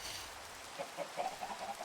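Minecraft chickens clucking softly: a handful of short, faint clucks in a loose rhythm over low background noise.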